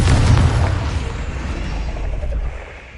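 A Confringo fire spell in the Hogwarts Legacy video game on PlayStation 5 erupts in a single loud, deep, rumbling blast that slowly fades over a few seconds.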